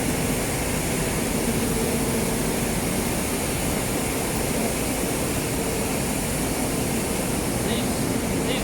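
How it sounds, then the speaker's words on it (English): Rotary coffee dryers of a Brazilian brand run inside a coffee factory, producing a dense, constant roaring industrial hum with a broad rushing wash and no letup; a voice speaks faintly under the din. "These are the rotary dryers here."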